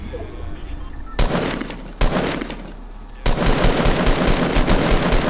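Bursts of automatic gunfire in the Fortnite video game striking wooden build walls, three sharp onsets followed by sustained rapid shooting that grows denser toward the end, loud and close.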